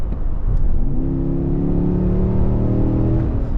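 A naturally aspirated SUV engine revs hard under full throttle, its drone rising steadily and staying loud and close throughout.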